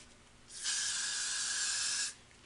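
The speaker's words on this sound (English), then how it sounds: "Hairspraying that." Hairspray hisses from an aerosol can onto a teased wig in one steady, close, loud burst of about a second and a half, with quiet room tone before and after.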